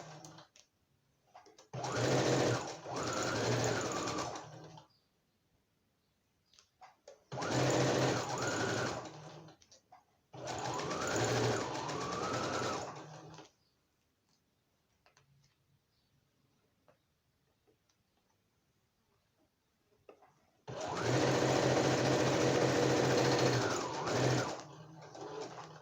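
Sewing machine stitching fabric with a backstitch while making an easy notebook cover, running in four separate bursts of steady rapid whirring with quiet pauses between them, close and clear with no talking.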